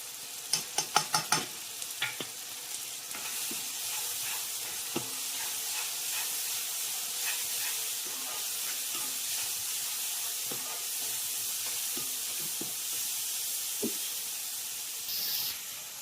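Chili powder and coriander powder frying in a pan for an Andhra-style boti curry, a steady broadband sizzle throughout with a few sharp scrape-and-stir clicks near the start and scattered utensil taps later.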